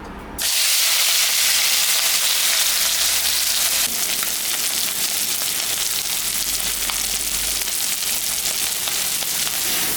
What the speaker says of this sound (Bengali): তেল গরম হয়ে গেছে, মাছটা এখন আমি ভাজবো।